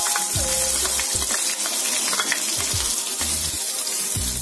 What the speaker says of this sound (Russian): Сейчас мы будем обжаривать лучок.